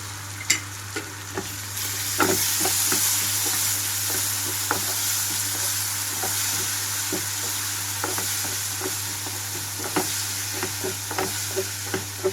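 A ground tomato and coriander paste with fenugreek powder fries for egg curry, giving a steady close sizzle with scattered clicks and taps of a spoon stirring the pan, all against a constant low hum.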